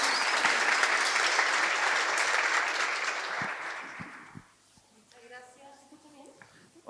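Enthusiastic applause from a seated audience at a panel talk on native wood innovation, loud and dense for about four seconds before fading out, followed by quiet murmured talk near the microphone.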